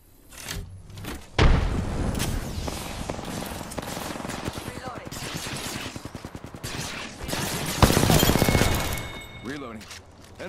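A frag grenade explodes amid rapid gunfire in the Apex Legends video game: steady automatic bursts run throughout, punctuated by a sharp loud blast, with a voice talking over the action.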